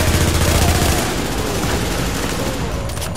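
Enemy gunfire in the shooter game The Division: loud, dense rapid shots blend into a continuous roaring barrage with no pauses.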